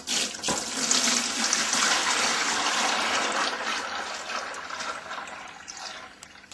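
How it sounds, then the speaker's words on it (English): Cooking oil poured steadily from a container into a bucket while making soap, giving a continuous splashing, gurgling stream that starts loud and close, then gradually thins and softens over several seconds, with no talking. "We'll just pour the oil into our bucket."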